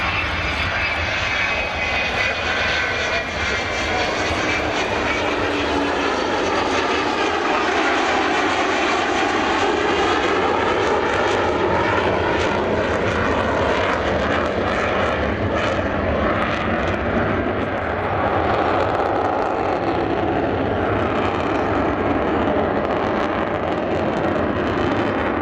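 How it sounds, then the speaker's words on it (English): Avro Vulcan XH558 with four Bristol Olympus 202 jet engines, a loud, sustained roar that swells and shifts in pitch as the bomber passes, filling the whole stretch without a break. "That is, as I was saying, the sound of those 4 Bristol Olympus 202 engines."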